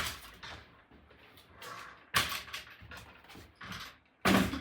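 A closet door in a bedroom, found detached from the top, is opened and shifted during a home inspection, giving several scraping, knocking bursts, the loudest two near the end, with no talking.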